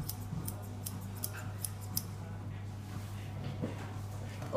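Grooming scissors trimming a poodle's tail, a run of quick, light snips close by that cluster early and then thin out, over a steady low hum with no talking.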